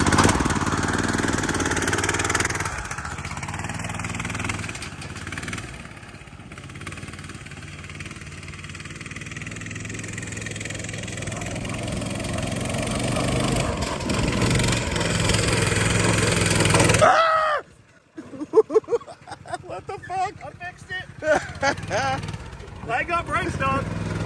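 A Honda GX390 engine on a homemade go-kart runs steadily at a loud idle-like drone for most of the clip, then cuts out abruptly and gives way to sputtering, uneven bursts.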